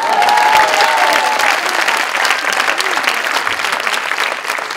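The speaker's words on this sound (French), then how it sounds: "On l'applaudit." Conference audience applauding a participant, a dense burst of clapping at full strength that tapers slightly toward the end, loud and close, with no voices over it.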